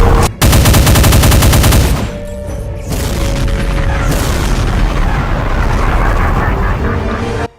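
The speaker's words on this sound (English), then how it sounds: "Fire explosive minigun shots." Explosive minigun fire from a Doom mod enemy, a rapid roaring burst of loud gunfire and blasts up close that thins into a dense, sustained rumble of explosions.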